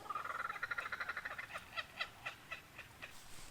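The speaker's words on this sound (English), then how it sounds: "2 kookaburras." Kookaburras call in a rapid rising and falling cackling chorus, the laughing notes quickening then breaking into spaced chuckles, distant and fairly faint outdoors.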